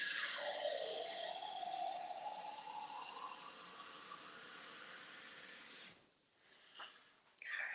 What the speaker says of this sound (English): so let me put some water in there.